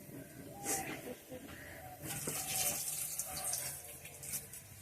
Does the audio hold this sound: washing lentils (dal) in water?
yes